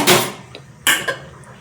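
Spoon scraping and clinking against a bowl while stirring a ground cardamom and jaggery mixture for jackfruit kadabu, a few short close knocks and scrapes with quiet gaps between.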